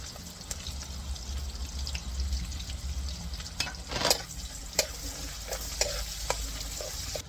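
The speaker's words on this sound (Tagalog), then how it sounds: "Ilagay natin yung sibuyas. And then, bawang." Onion and garlic sautéing in a pan for chopsuey: a steady close sizzle with scattered scrapes and knocks of stirring, one louder splashy burst midway and a few sharp clicks afterward.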